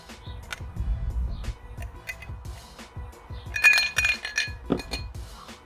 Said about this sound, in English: So I'm putting 3 giant ice cubes.